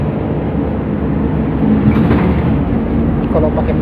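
A TransJakarta bus with a Mercedes engine drones steadily and loudly from inside the cabin, with a low continuous rumble and a slight swell midway, while a person talks over it.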